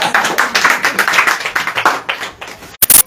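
An audience at an evening church meeting claps hands in a quick, ragged burst of many claps, a few sharp close claps trailing at the end.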